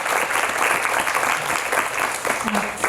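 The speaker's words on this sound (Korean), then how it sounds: "박수 한번 쳐드릴까요?" Audience at a book concert for author Nam In-sook claps steadily in a dense, fairly close burst of applause, with voices audible underneath and a brief exclamation near the end.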